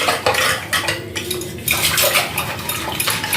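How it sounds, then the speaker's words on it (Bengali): A utensil churns and clatters inside a vessel as mint lassi is whisked, a continuous close rhythm of metallic scraping and sloshing liquid, with no voices. "এবার আমি এটাকে ভালো করে ঘুটে নেব।"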